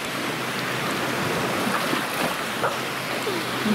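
Sea waves splash and wash near the shore at a beach, a steady broadband water hiss with a few brief splashes, close and continuous, with no talk.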